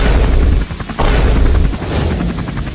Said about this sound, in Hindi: अब आग लगाऊंगा पटाखे में